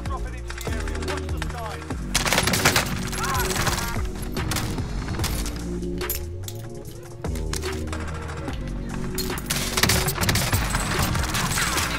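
Rapid bursts of automatic gunfire and scattered shots in a Call of Duty Warzone match, loud and dense for most of the stretch, with brief lulls between volleys and a voice talking faintly underneath.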